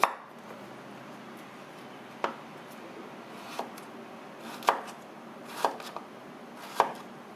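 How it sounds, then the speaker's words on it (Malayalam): A knife chops through hog plums on a cutting board, trimming off their ends in about six sharp, separate knocks spaced a second or so apart over a quiet background. "ഇതിൻ്റെ ഈ അറ്റം ഒന്ന് ചെറുതായിട്ടൊന്ന് മുറിച്ച് കളയാം."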